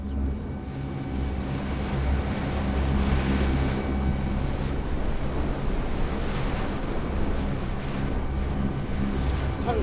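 Rough sea off the Blasket Islands, with waves churning and wind buffeting steadily and loudly throughout, a constant low rumble and wash with no pauses.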